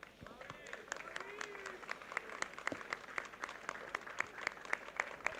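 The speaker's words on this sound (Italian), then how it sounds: "vorrei chiedere un bel applauso a tutti i volontari di questa piazza" Applause for volunteers at an outdoor town square event, a crowd clapping steadily at a moderate distance with a faint voice underneath.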